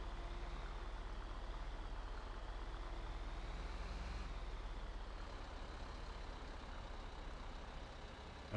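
A truck engine in a roleplay video game, rumbling steadily at low pitch and close by throughout, a continuous drone with no talk over it.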